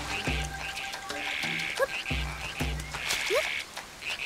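Frogs croak in a rainy jungle in the video game The Legend of Zelda: Echoes of Wisdom, with rhythmic repeated croaks near and clear over a rain-like wash and light chirping game effects.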